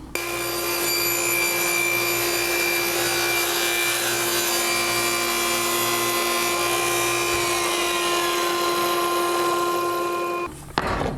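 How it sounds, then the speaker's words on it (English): A table saw cuts steadily halfway across a melamine crosscut sled, a loud, continuous whine with a grinding cutting tone that winds down sharply at the end. "So now I'm going to make a cut halfway across the sled"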